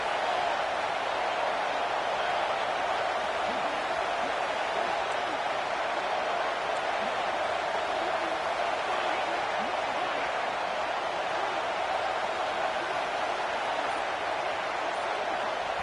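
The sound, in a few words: stadium crowd cheering at college football game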